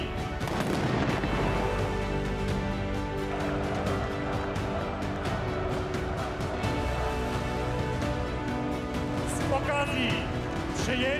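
A ceremonial cannon salute fires at a Polish military ceremony with troops on parade. Booming reports ring out over a busy outdoor crowd and band, with a commander's voice heard.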